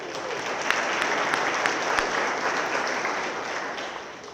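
A crowd at a Marysville High School Athletic Hall of Fame ceremony gives the event sponsors a round of applause, with steady, full clapping throughout.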